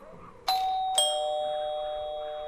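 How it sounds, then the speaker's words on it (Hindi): A house doorbell rings nearby at night on a street in Gwalior, with two chime tones, a high note then a lower one, each ringing out and slowly fading over a quiet background. "रास्ते में पड़ने वाले सभी घरों के दरवाजों पर लगे डोरबेल को बजा रही है।"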